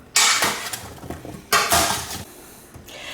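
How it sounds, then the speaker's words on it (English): A spoon scrapes and clatters through sweet potatoes, onions and sausage in a baking dish, in two close, loud bursts of stirring with quieter clinks between them. "I'm just going to take a spoon and I'm just going to mix this up"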